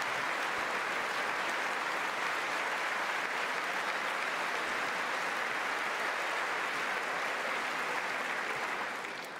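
Sustained applause from a large State of the Union audience fills a big chamber, a steady dense roar of clapping that holds loud throughout and tapers slightly at the very end.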